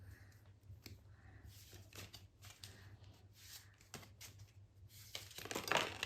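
A tarot deck is shuffled by hand in short crisp bursts of riffling and sliding cards, close and fairly soft, over a low steady hum.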